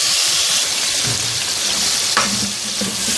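Chicken pieces frying with chilli and tomato in a pot for Pakistani chicken yakhni pulao, giving a loud, continuous sizzle with occasional stirring scrapes.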